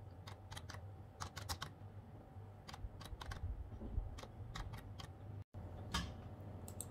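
An account number is typed on a computer keyboard in quick, irregular bursts of light key clicks. The tapping is close and fairly quiet over a low background hum, with a brief silent gap near the end and no speech.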